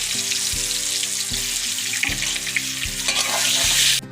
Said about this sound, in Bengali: পরের পটলগুলো আবার এখন ভাজা করে নিচ্ছি।